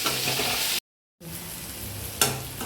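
Onions fried golden brown with amaranth greens being stirred in a hot pan, a dense continuous sizzle broken by a brief gap, then resuming with a sudden louder hiss as the greens are turned; no talking.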